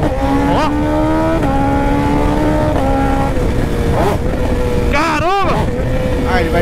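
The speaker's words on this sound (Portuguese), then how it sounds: "Mas ainda não teve uma moto atualmente que supera essa troca de marcha, mano. Esse estouro dela, olha isso" BMW S1000RR superbike revving hard through gear changes, with sharp exhaust pops and crackles on each shift and a loud, rising engine note throughout.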